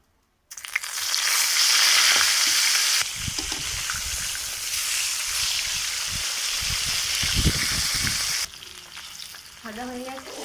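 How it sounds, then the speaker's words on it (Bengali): Fish sizzles and spits steadily in hot oil in a kadai, a loud, continuous crackling fry that softens briefly near the end. "প্রথমে মাছটা ভেজে নেব, তার জন্য কড়াইতে তেল দিয়ে দিচ্ছি।"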